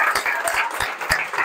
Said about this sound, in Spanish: Se merecen un aplauso, por favor.